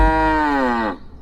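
A buffalo lets out a single loud, close moo lasting about a second, falling slightly in pitch before cutting off.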